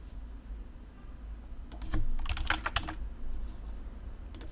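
Short bursts of computer keyboard typing, a quick cluster of close, crisp key clicks after a quiet moment and a few more taps at the end.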